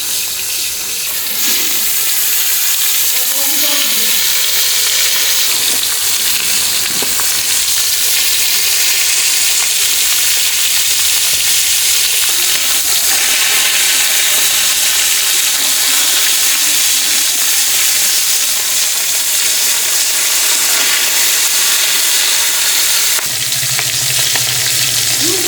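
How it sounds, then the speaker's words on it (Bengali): Fish frying in mustard oil in a wok, a steady dense sizzle and crackle running throughout, close and loud, with faint clatter of stirring now and then. "এখন মাছগুলো ভেজে নেবো। তার জন্য কড়াইতে দেবো সরষের তেল"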